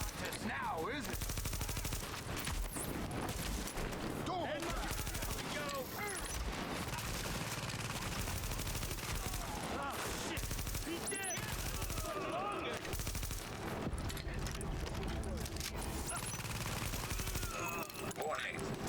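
Sustained automatic gunfire and bursts of shooting from the video game Tom Clancy's The Division, dense and continuous throughout, with game effects and a voice speaking over the fighting.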